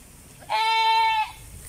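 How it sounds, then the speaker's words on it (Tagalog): A single goat bleats loudly and nearby, one wavering cry lasting under a second against a quiet outdoor background. "Ingay ng kambing."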